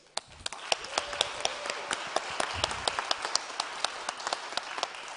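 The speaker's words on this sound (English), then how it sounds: "each of us, we deserve also a huge applause, because this is the result of our work here." An audience claps steadily at a youth forum results presentation, with sharp individual claps standing out over a continuous patter of applause.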